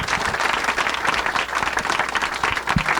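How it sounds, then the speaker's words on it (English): An audience at a master class event gives steady, dense applause, many hands clapping at once in a room. "A round of applause for Philip and Ruth."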